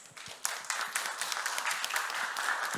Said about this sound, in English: please welcome him onto the stage with a big round of applause